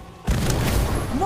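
A spell explosion in the Harry Potter: Magic Awakened video game, a sudden booming blast after a short quiet lead-in that then rumbles on loud and steady with heavy low-end energy.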